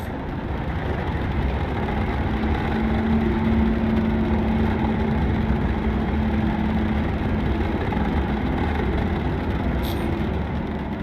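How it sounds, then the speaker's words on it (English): Spaceship engines in Star Citizen run at maximum power, a steady, droning low rumble with a faint tonal hum riding on top, unbroken and fairly loud for about eleven seconds, with no talk. "Setting max power to engines."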